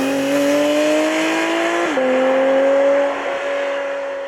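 A Porsche 718 Spyder RS engine drones loudly with rising revs, dips sharply at a quick gear change, then pulls on with a smooth intake-and-exhaust tone.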